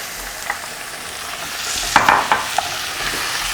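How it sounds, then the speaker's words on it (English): Meat stirred and mixed in a hot pan for Persian eggplant tahchin, a close, soft sizzle with a few sharp scraping strokes of the spoon in the middle, and no voices. "And I'm going to mix my meat."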